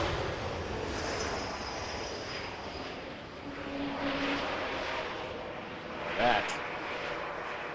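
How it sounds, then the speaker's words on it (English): Fixed-wing aircraft passing at Vancouver Airport, a steady distant engine roar that swells slightly midway, with a person talking over it and a brief brighter sound near the end. "is a great looking aircraft."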